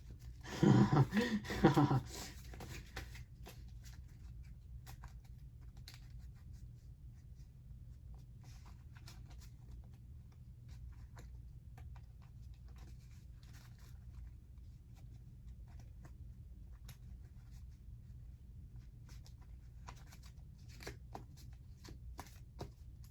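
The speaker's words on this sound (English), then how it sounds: "That is not good shuffling" Brief rapid riffling of a deck of Pokémon trading cards being shuffled, a short burst of close crisp card flutter at the start followed by a long stretch of quiet room tone with faint handling ticks.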